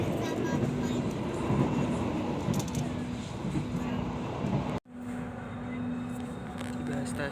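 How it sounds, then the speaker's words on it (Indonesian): Interior of the Blambangan passenger train speeding along the rails, a steady loud rumble with a constant hum and rattling, briefly cut by a sudden drop before resuming, with voices faintly present. "Ini kereta Belambangan masih melaju ngebut teman-teman."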